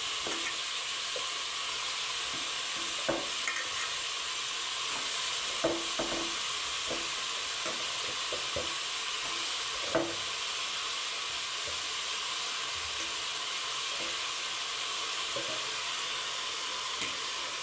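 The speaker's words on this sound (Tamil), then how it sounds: "இதில் இப்போ காளானை போடுறோங்க" Mushrooms frying in a pan for mushroom biryani, a steady close sizzle with scattered clicks and scrapes as the mix is stirred.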